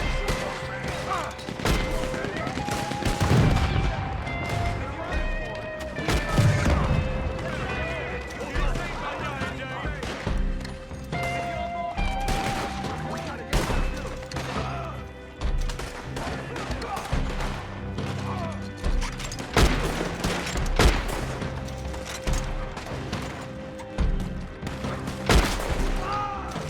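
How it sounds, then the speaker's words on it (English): Gunfire crackles through a Red Dead Redemption 2 Online mission, with scattered loud shots and volleys mixed with shouting voices and crashes over a busy game soundscape. "Don't just shoot the wagon, shoot those men!"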